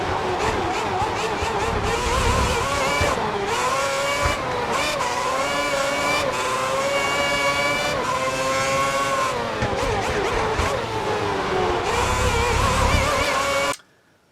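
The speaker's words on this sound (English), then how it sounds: "I hope you like that car driving around the Sao Paulo race circuit. I think it's Fernando Alonso's Ferrari" Fernando Alonso's Ferrari race car lapping the Sao Paulo circuit in a racing video game, its engine whining steadily and rising and falling through gear changes, loud and continuous before cutting off abruptly.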